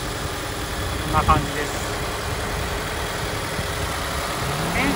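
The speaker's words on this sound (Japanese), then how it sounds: "はい、エンジンかけてみました。" A used Toyota 86 (ZN6) with low mileage idling steadily after a smooth start, a low, even engine hum close by, with a brief spoken remark over it.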